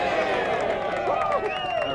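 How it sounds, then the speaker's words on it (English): Audience applause at a Vietnam War Veterans Day ceremony in Washington, DC, a dense, steady wash of clapping from a large crowd under a voice speaking at the podium. "I don't think I've ever gotten that much applause"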